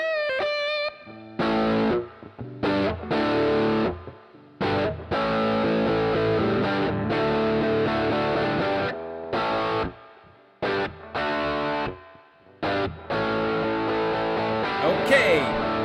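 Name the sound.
Overscream overdrive pedal modeled on Ibanez TS-808 Tube Screamer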